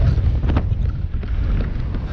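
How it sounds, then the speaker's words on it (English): Wind buffets the microphone on the fells near High Pike along the Cumbria Way in a loud, low rumble that gusts steadily for the whole moment, with no voices. "Oh, a bit windy."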